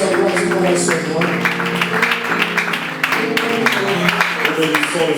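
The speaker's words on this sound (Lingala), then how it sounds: "Aplauso, aplauso, aplauso para o Senhor." A church congregation applauds during worship, steady clapping running alongside sustained singing or music, the crowd sound full and continuous throughout.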